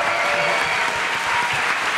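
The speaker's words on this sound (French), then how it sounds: "les gens ont envie de t'applaudir" An audience claps steadily throughout, a dense, even wash of applause with no voices standing out.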